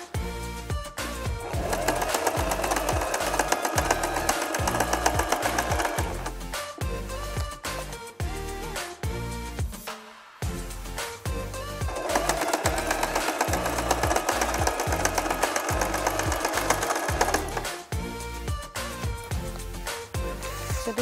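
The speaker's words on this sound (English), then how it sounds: "Edge in and then sew again." A sewing machine stitches a fabric organizer pocket in two long, loud, steady runs of rapid mechanical chatter, separated by a brief pause, with no talking.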